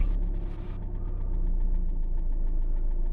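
A 2012 Fiat Doblo 1.3 JTD diesel engine idles steadily, a close, continuous low rumble with an even diesel knock rhythm and no talking.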